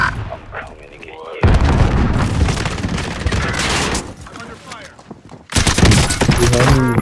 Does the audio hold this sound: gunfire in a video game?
yes